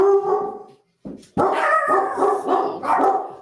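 Dogs bark close and loud in a quick run of yelps and barks with a brief pause near the start, and there is no talking.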